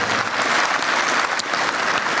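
Steady, dense applause from a seated audience at an academic panel on Industry 4.0, greeting a university professor as he is introduced; loud, full clapping sustained without a break for about two seconds.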